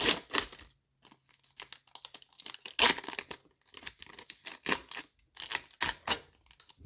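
A MetaZoo Hiroquest trading card pack being peeled open, close crinkly foil tearing and rustling in uneven bursts separated by brief quiet gaps.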